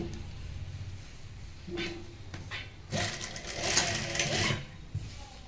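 Sewing machine stitching palazzo trouser panels, short bursts of fast mechanical whirring and needle chatter, first light then a longer louder run near the end, heard up close in a quiet room.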